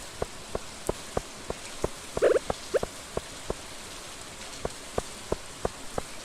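Rain in Stardew Valley falls as evenly spaced, soft droplet taps in a steady rhythm, joined briefly by a short bubbling splash midway, with no voices.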